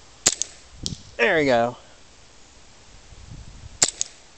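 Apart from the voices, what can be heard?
M9 pistol shots during an accuracy trial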